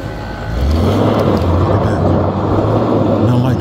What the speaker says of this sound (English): You got a guy over here doing burnouts.